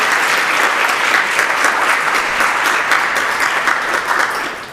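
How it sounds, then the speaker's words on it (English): Loud, continuous applause fills a room at an annual parish meeting as members clap for newly approved nominees; the crowd's clapping stays dense and even from start to finish. "A round of applause for Ann,"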